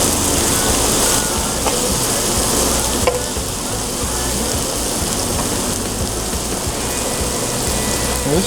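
Same-day caught fish fries in a pan with a dense, loud, crackling sizzle that holds steady throughout, with a faint clink near the middle.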